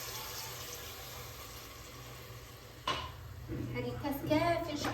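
A glass and a half of water poured into a pot of meat, quiet kitchen hum at first, then a splashing pour that builds into a louder gurgling stream over the last two seconds.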